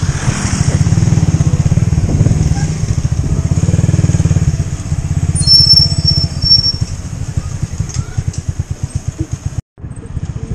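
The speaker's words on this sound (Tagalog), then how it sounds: "May motor." Motorcycle engine running loud and close in Nagtipunan, Quirino Province, a steady low rumble with rhythmic pulsing that eases toward the end, with a brief cutout near the finish.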